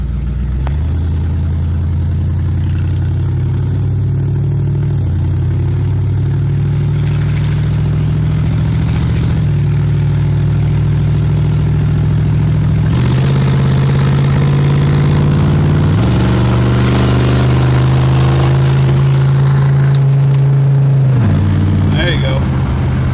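A 1968 Dodge Charger R/T drives along from inside the cabin, its deep engine droning steadily with clear pitch steps as it shifts gears, loud and continuous for the whole stretch.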